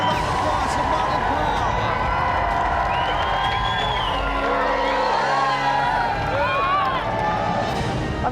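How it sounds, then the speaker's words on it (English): Studio audience on a TV games show cheering and applauding, a dense, loud continuous crowd roar with whoops throughout, close and sustained. "round of applause for Mark and"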